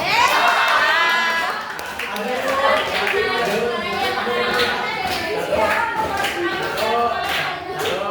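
A class of students clapping together, a continuous patter of many hands at close range, mixed with chatter and voices throughout.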